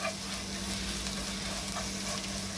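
Biryani masala being sautéed in a pan for Kerala chicken biryani, a steady close sizzle and fry with faint stirring scrapes running continuously and alone.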